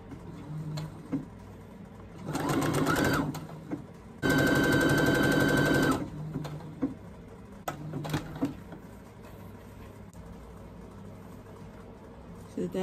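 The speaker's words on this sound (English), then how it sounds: "So here I'm stitching the band together." A sewing machine stitches the band seam of a wrap dress in two bursts of steady, rapid mechanical whirring, the second longer and louder, with quiet gaps and small clicks between them.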